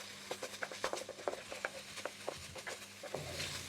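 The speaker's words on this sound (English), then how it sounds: "let's just saute this to bring out the flavor of the aromatics." Ginger and onions sautéing in a pan for a breadfruit curry, with quick rhythmic stirring taps and scrapes over a low sizzle, close and moderately loud, no talking.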